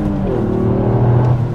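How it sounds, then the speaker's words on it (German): 2021 Toyota GR Yaris engine pulling hard out of a corner, a loud, close, rising growl as revs climb under full throttle, with no talk. "Wir kommen jetzt mal hier zur Kurve raus und geben mal Gas."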